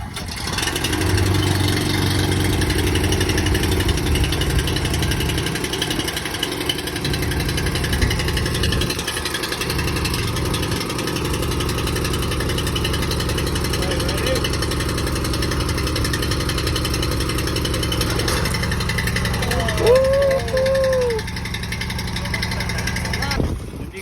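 A Grillo walk-behind tractor engine runs steadily in a farm setting, a continuous close mechanical drone holding level throughout, with a few brief tonal chirps near the end.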